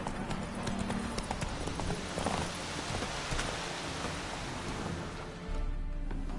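A horse gallops in a video game, its hooves pounding out a rapid, steady clip-clop under rain-like ambient noise. The hoofbeats stay fairly close throughout and then give way to a low rumble at the end.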